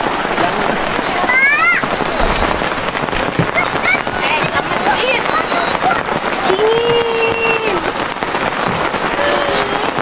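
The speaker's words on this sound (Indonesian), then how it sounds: "Ini masih cuacanya masih gerimis." Light drizzle falling at night on a busy campground in Ciwidey, Bandung, makes a steady, dense patter. Distant voices, a few whistles and a chirping tone carry over it throughout.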